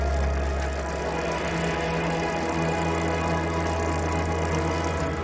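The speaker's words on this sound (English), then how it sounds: "O.J. saw the motorboat speeding towards him, but didn't realize that it was out of control and going fast." Motorboat engine running steadily at speed, a continuous loud low drone with a constant mid-frequency hum and no pauses, heard alone without any voices.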